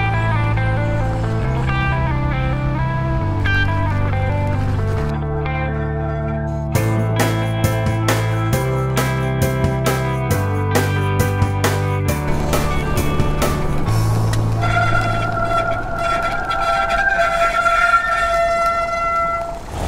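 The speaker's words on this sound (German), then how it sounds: "Wir haben hier die Magura MT4 Bremse und die hat leider nicht nur im Moped-Bereich, sondern auch im Fahrradbereich irgendwie ein Problem, dass die ja quietscht" A Magura MT4 brake on a FEDDZ electric moped squeals in loud, sustained, tonal shrieks that shift pitch in steps as braking pressure changes, ending in a higher, thinner whine.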